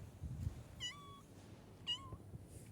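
A black cat meows twice, faint and somewhat distant, over a low background rumble.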